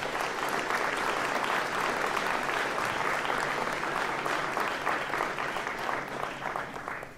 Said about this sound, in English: let's give them a round of applause for putting their name forward.